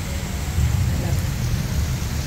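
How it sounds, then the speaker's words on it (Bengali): Heavy rainstorm at four in the afternoon with thunder and lightning, a dense steady roar of rain with low rumbling, loud and continuous throughout. "আর কি জোরে ঝড় বৃষ্টি এসছে"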